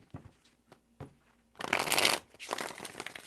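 A deck of tarot cards being shuffled three times, with a quick riffling flutter that swells to a loud, dense burst and then a second softer run, close up with no talking.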